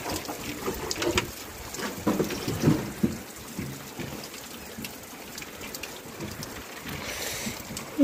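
Steady rain patters down with a wet, hissing texture, occasional heavier splashes and drips nearby, no voices.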